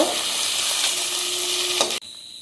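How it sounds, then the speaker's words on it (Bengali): Tengra fish fry in a pan of oil, a loud, close, continuous sizzle that cuts off abruptly near the end, leaving a quieter hiss. "মাছগুলো ভাজা হয়ে গেছে এখন উঠিয়ে নেব"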